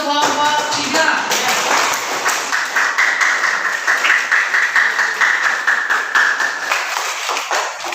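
Classroom audience applauding a student group, a dense burst of clapping that stays strong and steady for several seconds, close and loud, with a few voices calling out over it.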